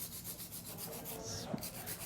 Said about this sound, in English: I'm gonna hand file real quick